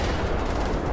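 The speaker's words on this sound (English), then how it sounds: "It's like the Terminator gun." A rapid-firing heavy gun in the video game Wolfenstein: The New Order roars in a dense, continuous burst, loud and close for a second.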